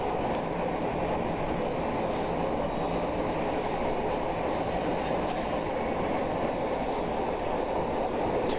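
A subway train runs through an underground tunnel, heard from inside as a steady loud rumble and roar with faint rhythmic rattling of the cars throughout.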